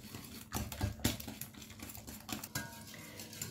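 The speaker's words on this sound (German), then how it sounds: "Ich brauche keinen Mixer, ich mache mit Schneebesen einfach so." A hand whisk clicks and taps rapidly against a bowl while mixing butter into a cookie dough, a quiet, irregular series of sharp metallic ticks close by.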